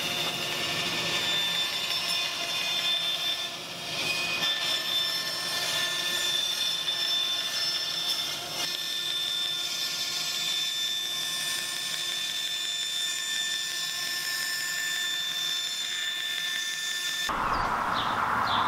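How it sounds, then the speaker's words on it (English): A bandsaw cuts wood for camp chair parts in a workshop, a loud continuous whining drone with steady blade noise lasting the whole stretch, close up, with a brief change as the cut ends. "Next, I'll cut these up on the bandsaw and get close to that line."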